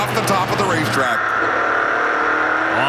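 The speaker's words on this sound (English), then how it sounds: "You can hear him working the throttle as he brings it up to speed" A NASCAR Pinty's Series stock car engine revs and accelerates on the racetrack, a steady loud drone climbing in pitch, heard under continuous race commentary.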